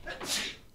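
A single sharp sneeze bursts out close to the microphone, quick and breathy, lasting under a second.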